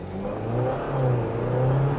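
A 2024 Jeep Wrangler hybrid weighing about 5,100 pounds pulls hard under acceleration, its engine droning and rising steadily in pitch from inside the cabin, with no talk over it.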